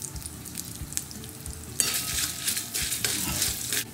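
Urad dal, asafoetida and dried red chillies crackle in hot oil. Faint stirring taps come first, then the sizzle swells suddenly and stays bright and close, with scraping stirs through it.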